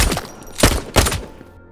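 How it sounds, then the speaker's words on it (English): Gunfire from an action film, three heavy close shots in quick succession, the last two booming loudly before fading, with no talking. "then swiftly guns them down"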